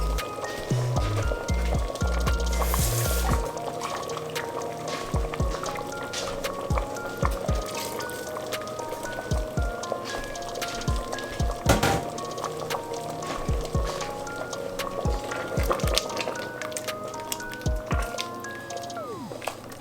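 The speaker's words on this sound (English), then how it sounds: "I'm gonna wash this out a little bit. Catch a little bit of water in it." Water splashes and sloshes inside a container, with scattered knocks and drips throughout, fairly close.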